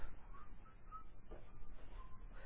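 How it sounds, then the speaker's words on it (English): Someone whistles a short melody with several wavering notes of varying pitch, faint and fairly close, no other voices. "But I'm whistling my affirmation."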